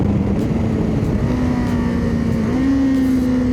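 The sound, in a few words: Kawasaki KLE 500 motorcycle engine after downshift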